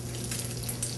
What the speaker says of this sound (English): I'm going to filter the broth.